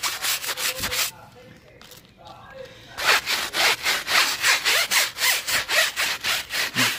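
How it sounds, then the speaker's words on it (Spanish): A stiff brush scrubs dirt off a car wheel rim in fast, rhythmic back-and-forth strokes, loud and close, with a short pause before the scrubbing resumes steadily. "yo recomiendo más este tipo de cepillo para que quite bien lo que es la tierra"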